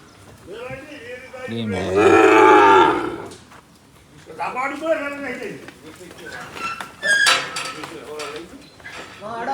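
Cows moo loudly and repeatedly nearby at a farm during morning milking, long low calls overlapping, while a person talks in between.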